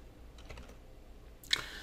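Keystrokes on a computer keyboard during a JavaScript coding session, a few faint soft taps followed by one sharper key press near the end, alone without talk.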